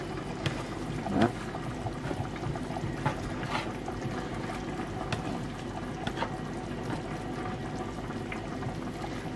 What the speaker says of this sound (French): On rajoute encore de l'eau, petit à petit.